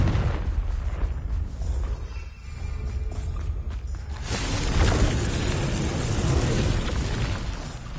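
A Confringo spell explodes in the video game Hogwarts Legacy: a loud, rumbling blast with crackling debris, followed by a second, heavier explosive roar that swells midway and lingers to the end.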